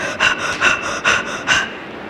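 A voice imitates panting and gasping in a rhythmic series of about four breathy puffs, each swelling and fading in steady succession, close and fairly loud with no other sound around it.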